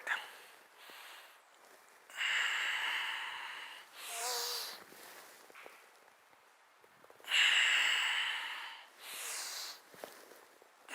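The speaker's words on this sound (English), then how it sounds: "Very powerful breathing exercises. These are pranayamas, powerful box breathing techniques." Pranayama box breathing in a traditional yoga session: slow, loud breathing through the nose in long strokes separated by quiet holds, repeated several times up close, with faint shuffles between breaths.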